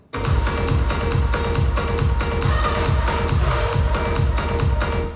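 A loud electronic dance track drop at 138 BPM hitting full force, with a pounding bass kick in steady rhythm under dense, bright synths throughout.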